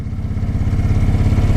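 A Kawasaki Vulcan 750 motorcycle engine runs close by with a steady low pulsing throb, its choke pulled out, heard briefly and alone.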